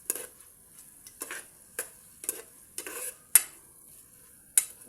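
Shrimp sizzling in a pan for chop suey while a spatula scrapes and stirs in a series of sharp, close strokes roughly every half second over a faint frying hiss.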